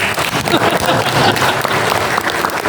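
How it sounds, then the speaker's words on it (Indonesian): Audience applause at a qurban (sacrificial animal) briefing session, a dense, steady wash of many hands clapping close and loud throughout, with a little speech mixed in. "Dulu tepuk tangan untuk sapi"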